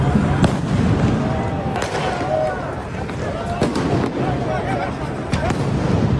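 Firecrackers go off during a street riot in Los Angeles, sharp cracks scattered over a constant loud crowd roar and background commotion.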